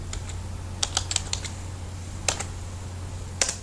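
Keys typed on a computer keyboard while writing in Microsoft Word 2010, a few scattered clicks and short bursts of keystrokes over a steady low hum, close and fairly quiet.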